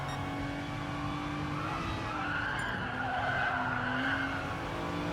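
Race car in GT Sport held in third gear through a section, engine droning steadily with tyres scrubbing and squealing through corners, loud and continuous.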